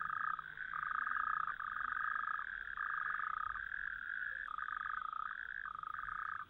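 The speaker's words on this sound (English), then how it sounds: "The amphibians that populate this medium mark their territories by singing constantly" Frogs sing across a still body of water in a steady, overlapping chorus of pulsing croaks. The calls come in repeated bursts, moderately near, and there are no voices.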